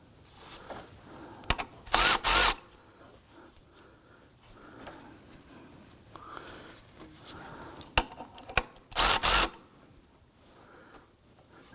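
Belt tensioner bolt tightened on a 2005-2009 Subaru Legacy 2.5L H4 with a power tool, heard as two short loud whirring bursts against quiet workshop background with a few clicks.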